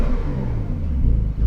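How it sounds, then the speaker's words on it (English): Close, loud engine rumble from a 2020 Porsche 911 Carrera S with its sport exhaust opened, a low, throaty rev that swells and holds for a second or so. "And with the exhaust opened with the sport exhaust button"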